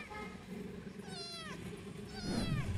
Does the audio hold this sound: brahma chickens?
no